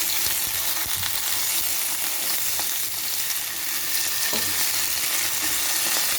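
Tuna fish frying in a pan, giving a steady, close, even sizzle with a few small pops and no talking.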